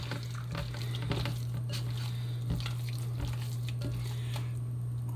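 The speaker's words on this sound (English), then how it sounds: "I am going to go ahead and mix that together" Ground meat is mixed by hand in a bowl, giving steady wet squishing and squelching under a constant low electrical hum, close and moderately quiet with no talking.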